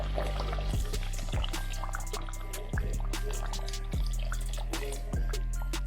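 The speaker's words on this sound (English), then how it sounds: "I think I'm gonna put some more hot water from the kettle in here." Hot water pours steadily from a kettle into a pot, a continuous liquid splash with a few soft clinks and knocks along the way.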